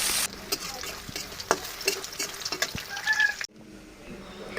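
Onions frying in oil for a raw jackfruit curry: a steady close sizzle with scattered crackles and stirring clicks, cutting off abruptly near the end to a quieter hiss, with no voices.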